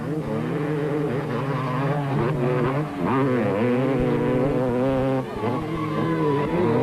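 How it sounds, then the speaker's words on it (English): A KTM and a Suzuki motorcycle racing neck-and-neck in an off-road time trial, engines buzzing and revving continuously with rising and falling pitch, loud and steady throughout, no voices. "Willie Island on the Super Tyres KTM and 250 championship leader Anthony Taylor on the Vinro Brick Suzuki had a neck-and-neck ride for part of the time trial."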